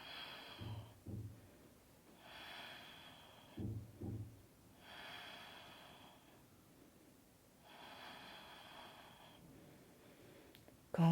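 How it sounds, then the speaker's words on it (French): Slow, controlled breathing during a yoga balance exercise, with a few soft audible breaths and faint airy exhales spaced several seconds apart in a quiet room. "On respire."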